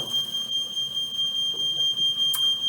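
A finicky home smoke detector sounds in a kitchen during cooking, a steady piercing high-pitched alarm tone held continuously throughout, fairly loud and alone with no talking.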